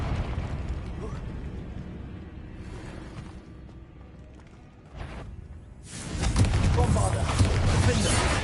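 Confringo spell blast in a Harry Potter video game: a murky rumbling bed with small pops gives way to a loud, broad explosive burst that sustains as a roaring rumble to the end.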